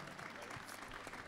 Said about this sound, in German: unter dem donnernden Beifall aller Besucher